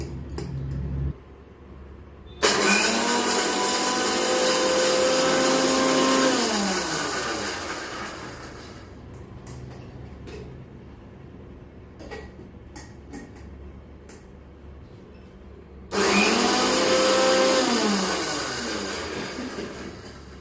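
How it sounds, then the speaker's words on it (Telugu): A mixie grinder blends raw mango chutney with garlic and salt in loud, whirring bursts. Two long grinding runs are separated by a quieter pause with some rattling, and no one talks. "సో మనం మిక్సీ కొట్టుకుందాము."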